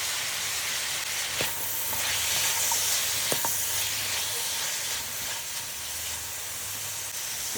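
Crushed garlic cloves fry in oil that was used earlier for chicken, giving a constant steamy hiss. A few sharp clicks and taps from a utensil cut through near the start and middle.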